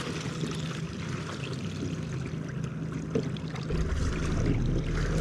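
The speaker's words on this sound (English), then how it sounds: "we got a little bit of choppy water here" A kayak moves over choppy water, with a steady wash of splashing and sloshing close by and a low rumble building toward the end, with no one speaking.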